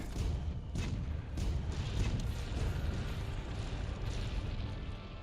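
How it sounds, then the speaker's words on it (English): Cannon fire in Monster Hunter World during a Xeno'jiiva speedrun with sword and shield, heard as deep booming blasts and rumbling impacts in a dense, continuous battle din with scattered sharp cracks. "So that's an early cannon."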